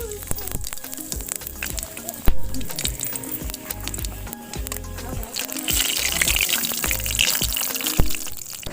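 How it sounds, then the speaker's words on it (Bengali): Mustard oil poured into a hot wok, a soft liquid pour giving way to a rising hiss and sizzle over a low, steady tonal background. "কড়াই গরম হয়েছে, কড়াইতে সরষের তেল দিয়ে দেব।"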